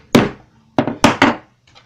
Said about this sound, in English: Then you'll take a hammer and tap down on that, and it should pop that primer out.